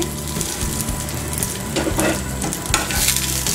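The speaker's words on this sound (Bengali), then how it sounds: "এবার সেমাইগুলো দিয়ে একটু ভেজে নিব" Vermicelli (semai) frying in a pan over medium-low heat for crispy kunafa, giving a steady close sizzle with scraping and stirring clatter throughout and no talk.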